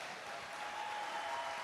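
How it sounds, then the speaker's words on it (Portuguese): Faint, steady applause from a church congregation during a Catholic worship gathering in Brazil, a brief even wash of clapping heard from a distance. "Dá uma salva de palmas para Jesus."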